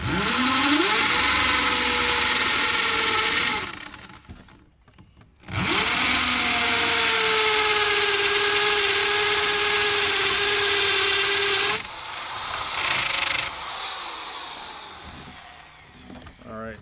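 Power drill boring into deck wood with a spade bit outdoors, two long loud whirring runs that spin up, bog slightly as the bit bites, then stop, separated by a short pause, followed by quieter handling noise.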